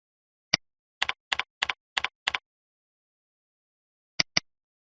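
Short bursts of keystrokes on a computer keyboard while naming an export file: a single tap, then a quick run of about five paired clicks, and after a pause two final taps, crisp and close in otherwise silent surroundings.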